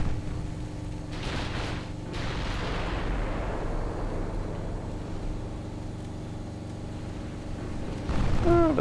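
Naval guns on a warship in a naval strategy game let off armour-piercing shells, heavy booming blasts that rumble and fade over several seconds, with a sharper burst near the end.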